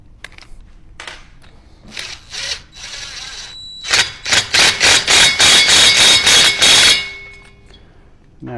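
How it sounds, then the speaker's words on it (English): An impact wrench starts a nut on a 1974 Harley Davidson Shovelhead, giving a few short bursts and then a rapid string of loud hammering pulses for about three seconds, close-up, before falling quiet. "We'll get it started with an impact."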